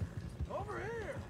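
Horse hooves clip-clopping in Red Dead Redemption 2, low rhythmic thuds under a voice and a brief tonal game sound.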